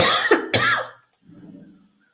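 Two sharp coughs up close, followed by a softer throat-clearing rumble that fades out.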